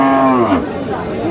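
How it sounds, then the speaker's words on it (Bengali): A Sahiwal cow with her calf at the Aftabganj cattle market lets out a single loud, close moo that trails off after about half a second, with faint market murmur behind. "গাভী বাছুর"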